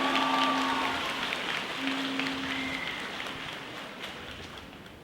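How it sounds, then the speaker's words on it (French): Applause fills a large hall at a cosplay show at Japan Expo, a broad hiss of many distant hands that slowly fades, with sustained musical tones playing over it. "Applaudissez très chaleureusement Son Goku."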